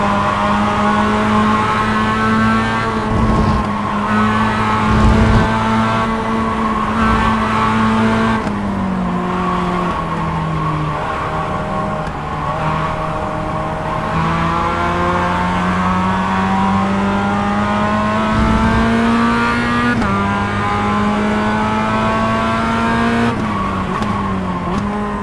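Mazda race car in the iRacing sim, its engine droning loudly and continuously for the whole stretch as revs climb and drop through gear changes, with brief downshift dips and no talking.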